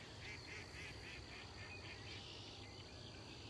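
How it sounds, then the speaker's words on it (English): A duck calls from an unseen spot near a cattail marsh in a park, a faint rapid series of nasal quacks repeating about six times over steady outdoor insect hum. "So I guess we're pretty close to a duck"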